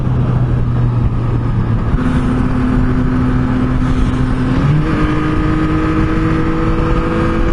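A 2022 Yamaha MT-09 motorcycle accelerates hard, its loud engine note climbing steadily through the gears with two quick shifts, heard close up with no talking.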